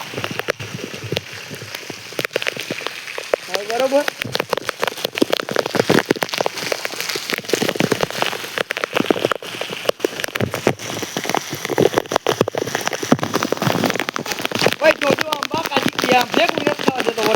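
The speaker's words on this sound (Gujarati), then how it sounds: "તમારા ગામમાં કેવો વરસાદ થઈ ગયો" Heavy village rain patters densely on surfaces in a constant, crackling wash, with people talking intermittently over the downpour.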